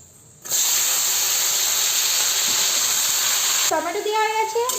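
Tomatoes hit hot oil seasoned with dried chili in a pan, giving a loud, steady sizzle and hiss that carries throughout, with a voice speaking briefly near the end.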